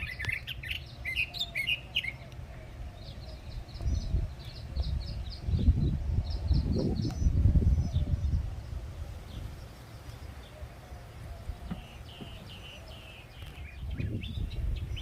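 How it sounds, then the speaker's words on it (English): Birds outdoors after a storm trill and chirp in quick repeated bursts, some high and thin, over a continuous rumble and rustle of wind or traffic; no talking. "I do love the sound of birds."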